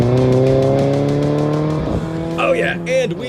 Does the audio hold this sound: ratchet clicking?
no